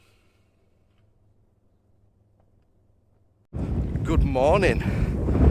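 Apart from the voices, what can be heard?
wind blowing into microphone outdoors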